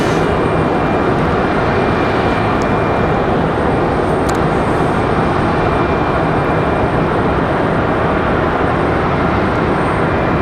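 A SkyWest airliner rolls down the runway at Raleigh-Durham International Airport, giving a loud, steady broadband engine roar that holds constant throughout, with no voices.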